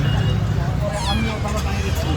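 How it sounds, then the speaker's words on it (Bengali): A cat gives a short meow amid nearby voices and outdoor background noise, with people talking over it. "ভালো একটা বিলাই কত সুন্দর এটা দেখো"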